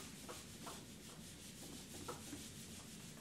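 Soft, steady rubbing as writing is wiped off a board during a maths lesson, a faint continuous scrubbing with slight rhythmic strokes and no talk.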